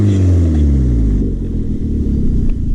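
A Ford Focus engine revs hard and loud, close by, its deep roar sweeping and rumbling steadily without any talk.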